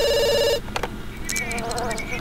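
A telephone rings in The Sims 2 game with a bright, repeating electronic trill for about half a second, then stops and gives way to soft game chimes and background sounds.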